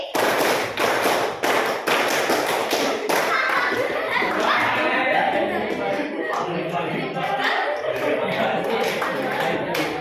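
Children in a classroom clap hands in counted groups, sharp taps in quick bursts early on, then a busier wash of claps and chatter under an adult voice calling the counts.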